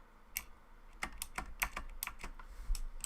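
Crisp, close keyboard typing as text is entered in Blender 3D software, a quick irregular run of about a dozen distinct key clicks with no voices.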